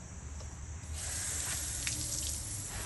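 Water from a hose sprays steadily onto a filthy Mercedes rim in a car wash setting, a continuous close hiss with a faint low hum underneath.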